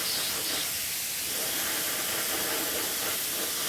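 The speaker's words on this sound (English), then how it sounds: "I'm just almost airbrushing it on and then losing the compressed air" Compressed air hisses in a steady, loud, close spray while a part is airbrushed during a Ford XC Fairmont 351 restoration, continuing unbroken throughout.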